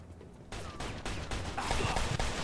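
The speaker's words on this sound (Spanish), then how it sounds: "El disparo." Gunfire in the Mafia 2 video game, a few sharp shots in quick succession over a steady game background, rising louder toward the end.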